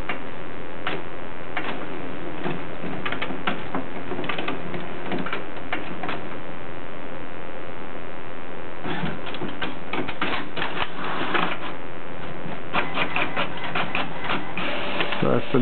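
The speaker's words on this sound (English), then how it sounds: "Is now printing." Inkjet or laser printer printing a document sent from an Android phone, giving a steady run of rapid mechanical ticks and clacks with louder bursts of paper feed, close and continuous, with a voice briefly talking over it.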